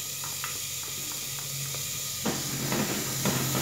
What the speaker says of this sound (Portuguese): agora eu vou colocar a cebola